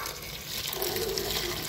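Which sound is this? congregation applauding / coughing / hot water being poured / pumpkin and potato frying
hot water being poured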